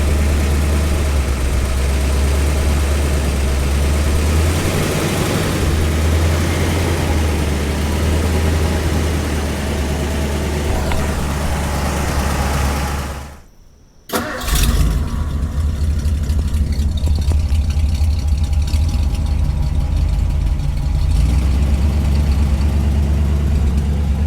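A 1955 Ford Thunderbird idles with a soft, steady low rumble under a broad constant hiss, broken by a brief drop to near silence midway before the smooth, quiet idle resumes; no talking.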